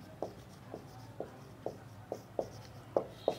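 A pen or pencil taps and scratches across paper in short, regular strokes, about eight evenly spaced marks, quiet and close, with no talking.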